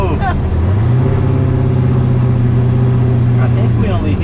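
A boosted 1300-horsepower 427 LSX engine in a ZL1 roars at full throttle from inside the car, a loud, steady climbing drone that drops briefly as the driver shifts gears.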